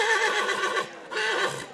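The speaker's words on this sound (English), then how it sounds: "So we take one last look at these beautiful horses," Dutch horses at a farm freestyle show whinny and neigh loudly and close by, one long, shaky call that dips briefly and then rises again, with no talking over it.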